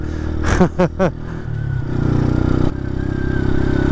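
A motorcycle engine roars past at close range with a rising and falling rev, then settles into a steady engine drone that cuts off abruptly.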